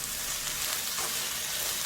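Cabbage and broccoli stir-fry in a pan for a tofu curry, giving a steady close sizzle with soft scraping textures throughout, alone without speech.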